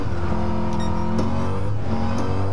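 Ford Shelby GT350R engine pulling on a race track, a loud continuous in-car drone with a steady harmonic tone throughout the short burst.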